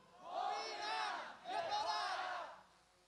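A large block of Vovinam students shouts the martial-arts battle cry in unison, two long loud chanted phrases in a row, a massed chorus of voices at a group demonstration.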